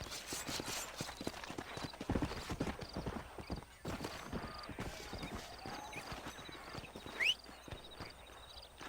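Horse hooves clip-clop steadily in Red Dead Redemption, a rapid rhythm of close, crisp strikes with a brief whinny near the end.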